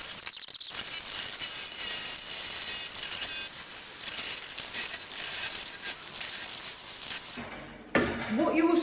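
Cream is whisked by hand in a bowl, a fast, continuous scraping and ticking rhythm that runs steadily for several seconds before a brief pause and a clatter at the end.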